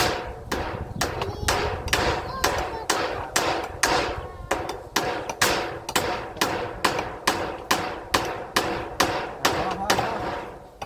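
Nails are hammered in a steady, rapid series of sharp strikes while building a temporary hut, about twenty blows with brief pauses between them, close by and loud.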